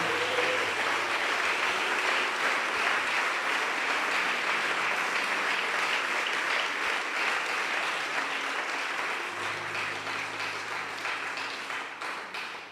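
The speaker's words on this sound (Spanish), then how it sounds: "Dele fuerte ese aplauso a Dios." A large crowd applauds loudly and without pause, sustained dense clapping that tapers slightly toward the end.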